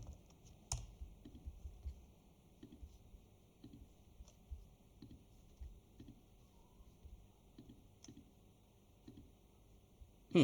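Typing on a computer keyboard while filling a form, with light, scattered key clicks spread across the stretch and a sharper tap near the start, fairly quiet and close.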